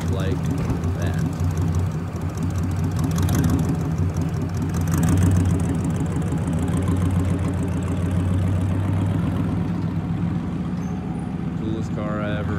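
Car engine idling and then pulling away, a steady low rumble that swells slightly before easing off as the vehicle departs, with people talking over it.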